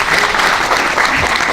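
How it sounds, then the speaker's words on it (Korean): Audience applause for Professor Joo Han-gyu at a lecture on nuclear phase-out policy, a short loud burst of dense clapping from a crowd, close and sustained. "우리 주한규 교수님께 다시 한번 박수 부탁드리겠습니다."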